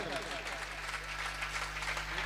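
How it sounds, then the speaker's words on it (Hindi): Audience clapping at a Jain religious festival ceremony, a steady wash of applause under a speaking voice, with a low electrical hum beneath. "जोरदार ताली के साथ में।"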